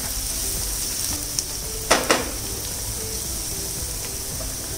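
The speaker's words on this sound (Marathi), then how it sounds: "कांदा मऊ होईपर्यंत जरा परतून घ्यायचा आहे" Onion softening in a pan with turmeric gives a steady, even frying sizzle, broken by a couple of brief louder clicks near the middle; no voices.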